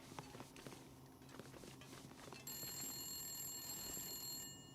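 A telephone rings inside the video game Wintermute, a bright sustained electronic ring that cuts in halfway through over faint footsteps and background ambience, fairly loud and continuing to the end.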